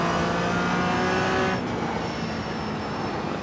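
A race car on a track accelerates hard under a high, straining engine note, then an abrupt gear shift drops the pitch as it pulls on, loud and close.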